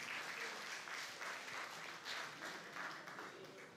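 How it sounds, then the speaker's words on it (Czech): Audience applause at a live short-film show in Pardubice, a dense, steady wash of many hands clapping that stays fairly loud throughout with no voices standing out. "tak jim tleskáme na dálku"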